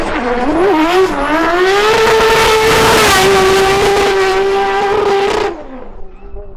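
A 1000 HP BMW E36 race car engine screams on track, holding a loud, steady high-revving note with shifting pitch for several seconds before cutting off and fading into quieter background.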